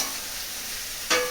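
Food frying in a pan in a home kitchen while breakfast cooks, a steady soft sizzle that swells into a brighter hiss with a light clink just before the end.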